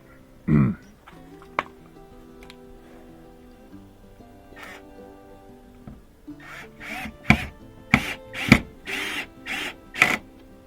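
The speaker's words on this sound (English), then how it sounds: "We'll put those screws in to hold it." Screws driven into a Toyota Prius rear bumper with a power drill: a few short whirring bursts early, then a rapid series of loud, close buzzing pulses near the end, with small clicks between.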